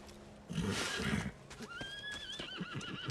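A horse neighs loudly, a high wavering whinny, after a burst of rustling and hoof-like thumps; no talk.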